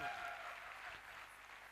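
An audience at a direct-selling motivational event in India claps in a steady, dense wash of applause, fairly faint and distant, with no speech over it.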